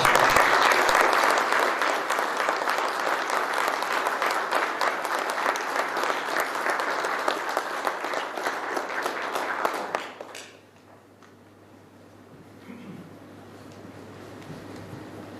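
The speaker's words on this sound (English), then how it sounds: "please join us in a round of applause for Major Leinbach" A retirement ceremony audience applauds a retiring Marine major. Strong, sustained clapping fills the room for about ten seconds, then cuts off sharply to a quiet hall with faint low hum.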